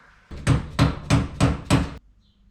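Five sharp, evenly spaced hammer strikes ring out on metal headliner bows of a 1951 Chevy, loud and close, followed by quiet.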